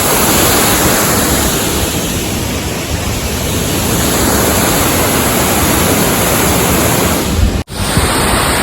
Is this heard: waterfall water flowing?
yes